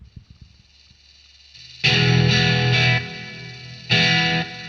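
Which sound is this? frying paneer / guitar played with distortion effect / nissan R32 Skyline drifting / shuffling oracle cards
guitar played with distortion effect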